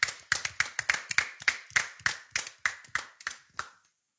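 Rhythmic, evenly spaced hand claps, about a dozen sharp strikes in a steady beat that stop after a few seconds, from a church congregation praising.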